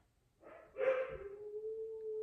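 A dog lets out a short bark-like yelp, then settles into a long, sustained howl held on a steady pitch, fairly faint.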